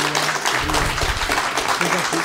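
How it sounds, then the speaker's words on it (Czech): An indoor audience at a political debate applauds to welcome the speakers, a dense, steady wash of clapping throughout. "kdybyste je dneska potleskem ještě jednou přivítali"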